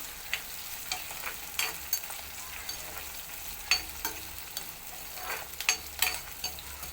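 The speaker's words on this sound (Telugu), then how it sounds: "ఇందులోకి వచ్చేసి రవ్వ కరివేపాకు ఇవన్నీ ఫ్రై చేసుకోవాలండి" Semolina and curry leaves frying in a pan, a soft continuous sizzle broken by scattered light spatula scrapes and clicks, fairly quiet and close, with no voices.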